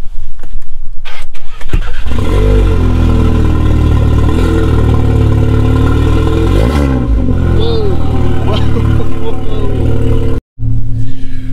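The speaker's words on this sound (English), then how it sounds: "Cold start." A car engine cold-starts close by, cranking and catching into a loud, steady, high idle that holds for several seconds, with a short blip of revs, as a voice talks over it.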